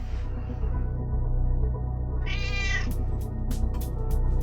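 A cat gives a single drawn-out meow over a steady low hum, with a few sharp clicks afterward.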